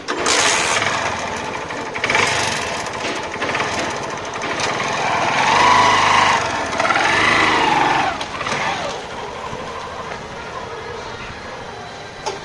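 A motorcycle engine buzzes steadily at close range, rising and falling slightly, with a voice speaking over it.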